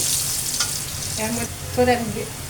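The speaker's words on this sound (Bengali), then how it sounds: "আলুগুলো আমি হালকা একটু লবণ আগে ভেজে নিব তারপরে বেগুনগুলো দিব" Potatoes lightly salted and frying in hot oil, with eggplant to follow, give a steady close sizzle throughout. Brief voice-like tones rise over the frying near the middle and end.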